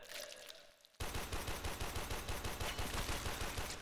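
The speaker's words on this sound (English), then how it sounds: "shoot two bullets at the guy, and then see Pompey cut in half" Rapid automatic gunfire from the Warframe video game breaks out suddenly after a quieter stretch, then continues as a loud, evenly spaced burst of shots.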